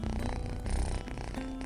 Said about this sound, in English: She sniffed her and then began to purr.